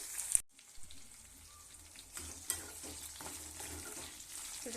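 Brinjal pieces fry in a pan with a soft, faint sizzle, broken by a few light clinks and stirring scrapes at a low level.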